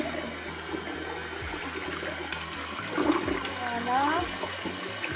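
Water rushes and splashes while boots are rinsed inside and out, a continuous running stream with gurgles and shifting splashes, a person speaking briefly over it.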